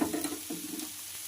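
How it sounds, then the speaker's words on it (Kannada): Oil poured around a rava dosa on a hot pan gives a soft, steady sizzle with light scraping and a few bubbling bursts, fairly quiet and close. "ಈ ಸುತ್ತ ಎಣ್ಣೆ ಹಾಕೋಬೇಕು"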